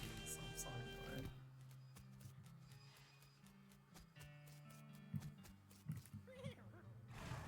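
A horse in the Western comedy RPG West of Loathing lets out a whinny, with game music and brief clip-clop under it and a voice talking over the top.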